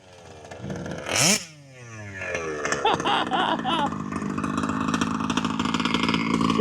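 An engine revs up hard with a rising whine, drops back, then keeps running loud and steady with a rough, throaty tone, close by.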